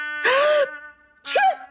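A sharp, voiced sneeze burst, then a pause and a second vocal outburst, close to the listener.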